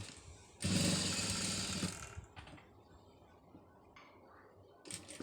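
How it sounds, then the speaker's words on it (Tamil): Sewing machine stitching a front neckline: one loud, steady whirring run of about a second, then quieter handling noises of the cloth. Close to the microphone, with no speech. "இப்போ இதில் வந்து ஒரு தையல் வந்து போட்டுருவோம்"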